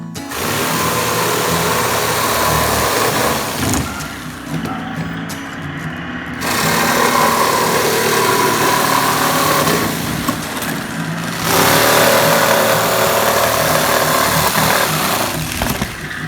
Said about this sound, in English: use the jigsaw to cut out the openings